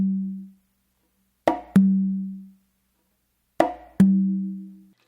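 Two-stroke conga figure repeated twice: a sharp close slap on the conga followed quickly by a ringing open tone on the tumba, each pair separated by a pause, played alone and close up.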